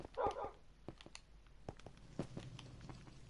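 Dogs in the Minecraft video game bark in a short burst of sharp yips and woofs, followed by lighter pattering clicks and thumps, fairly faint and with no talking.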